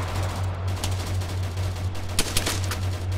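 Suppressive gunfire aimed at an APC in a military video game, heard as rapid bursts of automatic weapon fire over a constant low engine drone, with a few sharper, louder shots near the end.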